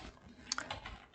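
Quiet keystrokes on a computer keyboard while Laravel PHP code is typed, a few soft close clicks in a short burst, with no talking.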